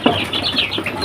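A brief burst of close, high chirping from three-week-old Joper crossbreed chicks, several overlapping peeps in quick succession.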